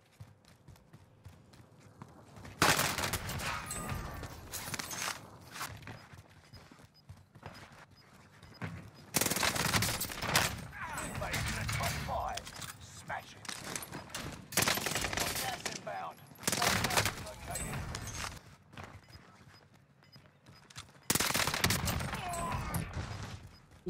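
Gunfire in Call of Duty on Rebirth Island: repeated loud bursts of rapid automatic fire separated by quieter stretches, with game effects and some talk in the background.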